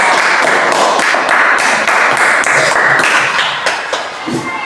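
A classroom of students claps for the second presentation group, a loud, continuous patter of many hands that tapers off near the end.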